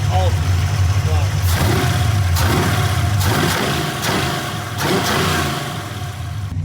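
A 347 V8 engine with APM carburetors in a 1965 fastback idles with a deep rumble, then blips the throttle in several sharp revs that rise and fall, with a person speaking over it.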